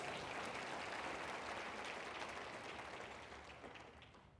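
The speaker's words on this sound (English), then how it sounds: "First thing I would like is a round of applause for Julius, the camera operator" An audience applauds the camera operator at the Raise the Roof 2021 gathering, a dense, steady clapping that fills the room and tapers slightly toward the end.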